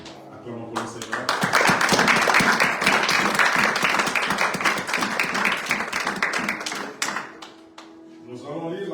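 A church congregation breaks into loud, sustained applause and clapping during a worship service, a dense crowd roar that swells quickly, holds for several seconds, then tapers off, with voices mixed in.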